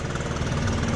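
A Stihl BR800 backpack leaf blower engine idles in a steady, close, loud drone with a fast, even rumbling pulse throughout.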